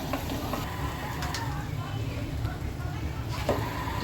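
Mashed potato with mint being stirred and mixed in a pan for aloo bharta, a continuous close sizzling scrape with light utensil knocks, steady in level.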